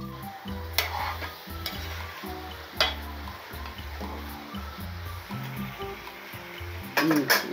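Chicken sizzles in a hot pan with ghee while a utensil stirs and clinks against the metal, a soft continuous frying hiss beneath.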